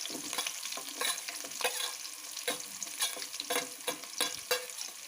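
Curry leaves frying in a pan with mustard seeds, cumin, green chillies, peanuts and onion, a crackling sizzle broken by repeated stirring scrapes, close and continuous.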